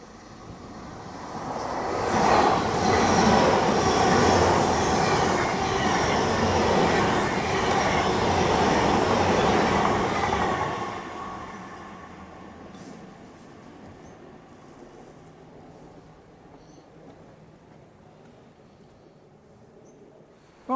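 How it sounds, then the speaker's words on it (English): A train passing along the seaside railway at Dawlish, a loud rumbling roar that builds quickly, holds for several seconds close by, then fades away into quieter background. "We are lucky. Another train."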